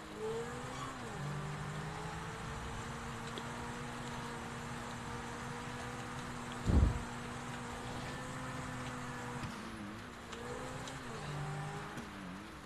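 A car in the GTA video game drives over open dirt, its engine droning steadily with small pitch shifts as it speeds up and eases off, and one sharp thud breaking in midway.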